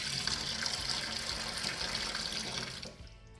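Water squeezed out of seasoned fish for a Cajun recipe, heard as a steady close rushing, dribbling stream that cuts off near the end, with no talking.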